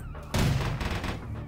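Gunfire in the video game Vampire: The Masquerade - Bloodlines, a loud burst of shots landing suddenly and ringing out over a steady game background, with no talking.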